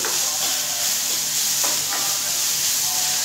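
Onions sautéing lightly in a pan in a home kitchen, giving a steady bright sizzle throughout with a few soft stirring scrapes, close and fairly loud, with no talk.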